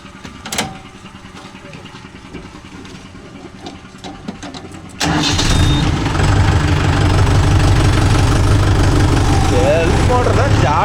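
A Mahindra Yuvo Tech Plus 585 4WD shuttle tractor engine catches partway through after a quieter stretch of clicks and background noise. It then settles into a loud, steady diesel rumble to the end.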